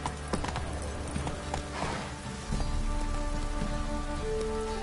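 Steady rain in The Witcher 3: Wild Hunt patters on surfaces while horse hooves clop along, a continuous wet hiss under the rhythmic steps.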